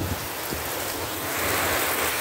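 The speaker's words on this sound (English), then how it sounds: "That wind is doing something crazy out here, y'all" Steady broadband roar of strong wind and heavy rain during a late-night severe storm, loud and continuous throughout with a slight swell toward the end and no talking.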